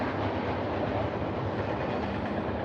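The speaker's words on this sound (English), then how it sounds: "Yeah, the trains only really bother me out here." A train rolling along tracks a little less than a mile away, a steady broad rumble with no talking.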